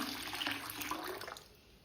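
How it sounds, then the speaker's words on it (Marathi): Water pours steadily into a container of washed mixed lentils for soaking, then tapers off after about a second and a half, fairly quiet. "डाळीमध्ये पाणी ओतून घ्यायचे।"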